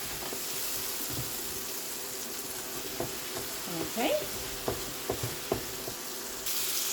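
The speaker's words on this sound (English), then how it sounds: "we'll just get this sizzle for a few minutes. We don't want the garlic to burn." Garlic and tomatoes sizzle in a frying pan with a constant hiss, broken by several short scraping stir knocks near the end, and one brief spoken word.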